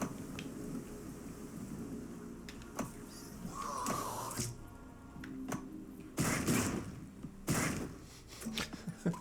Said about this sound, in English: Just explosions left and right.